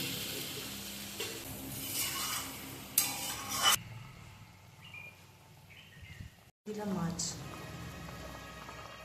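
Spices fry in oil in a pan for rohu fish curry, a bright sizzling hiss that fades after a few seconds, followed by softer stirring and clinks while a voice talks nearby.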